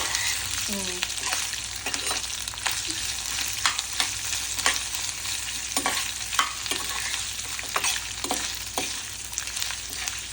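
Crushed ginger and mustard seeds fry in a hot pan, making a constant crackling sizzle broken by occasional stirring scrapes, with no voices.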